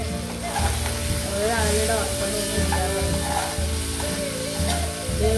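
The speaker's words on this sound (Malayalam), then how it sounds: "ഇതിനകത്ത് നമ്മൾ ചിക്കൻ ഫ്രൈ" Chicken frying in a pan in a home kitchen, a steady dense sizzle with crackling and stirring, voices and background music running underneath throughout.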